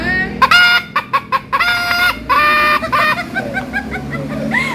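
A squeezable rubber toy chicken is pressed repeatedly, giving loud, close squawking crows and clucks in rapid bursts that mimic a rooster's cock-a-doodle-doo.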